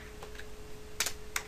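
Keystrokes on a computer keyboard while Python code is typed, a few scattered clicks followed by two short bursts of quick taps, close and fairly faint over a steady background hum.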